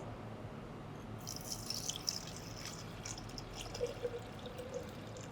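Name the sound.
water being poured into a J tube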